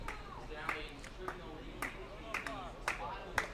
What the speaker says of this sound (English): Slow clap, slowly ringing around Canton Field here.